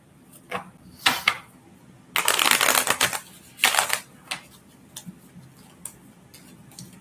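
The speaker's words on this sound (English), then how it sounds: "Let's shuffle, shuffle," A deck of tarot-style cards is shuffled during a live reading, with scattered light taps and two louder, rapid riffling bursts in the middle, close and clear with no talking.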